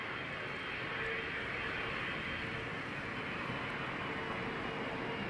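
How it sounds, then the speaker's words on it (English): Air Canada Airbus A330-300 in Star Alliance livery at Toronto Pearson runway 05, a steady, broad jet roar held at even loudness throughout with no voices. "Air Canada A36 to Munich, A330 300, Star Alliance livery"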